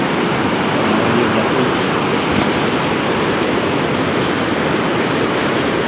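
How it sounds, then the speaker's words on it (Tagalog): A noisy river flows nearby, a loud, steady broadband rush of water continuing evenly without pause and no voices over it. "Ang ingay ng ilog."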